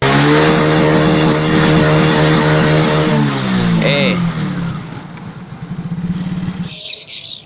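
A motorcycle engine revs loudly and close by in a house, its rising and falling drone pulsing over several seconds before settling to a rough idle, with voices over it.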